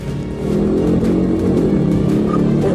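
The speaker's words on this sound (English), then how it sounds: "the driver sped away, resulting in a chase westbound on Cortez Avenue" A car speeds away during a police chase on a city avenue, its engine roaring loudly and steadily close by as it accelerates.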